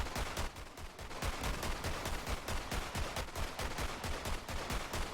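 Rapid handgun fire in Borderlands 3, a King's or Queen's Call legendary pistol, a dense unbroken string of loud shots with no pauses.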